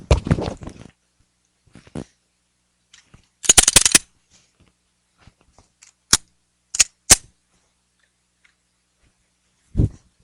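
Pistol shots at an IDPA shooting match ring out outdoors in separated bursts: one quick cluster of rapid shots near the middle, then sharp single reports spaced across the rest, with quieter handling noises between.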